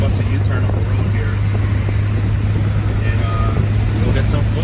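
VW Cabriolet fitted with a swapped 1.8T AWP engine driving, a steady loud engine drone with road noise that stays constant throughout.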